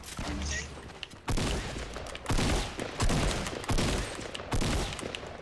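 Gunfire in the battle royale game Fortnite comes in about five loud, close bursts of rapid shots, each a second or so apart.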